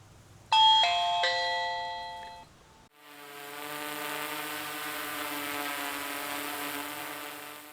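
A Reolink Video Doorbell (2nd Gen) chime plays a few bright tones, then a sustained, ringing melodic tone follows and holds steadily to the end.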